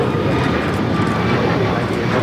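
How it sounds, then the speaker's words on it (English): An Alaska Airlines Boeing 737 MAX 9 jet takes off at LAX, its engines making a loud, close, continuous roar throughout, with a voice talking over it. "This is Alaska Airlines 1127 taking off to Portland, Oregon on the MAX 9"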